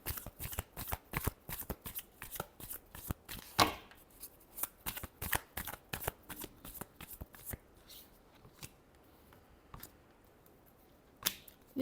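Tarot cards shuffled by hand in quick, crisp riffling flicks, close and steady for several seconds, then thinning to a few scattered flicks with quieter gaps.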